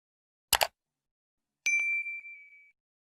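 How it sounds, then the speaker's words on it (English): A soft double click, then a bright single notification-bell ding rings out and fades slowly into silence. "click the notification bell"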